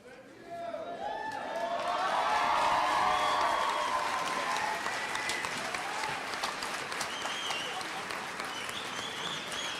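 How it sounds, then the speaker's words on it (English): Graduates at the NPS RHS 2013 graduation give sustained applause and cheering for the faculty, with dense clapping that swells early and continues steadily while voices and whoops rise within the crowd. "Your applause is a symbol of your gratitude for all I have done for you over these years"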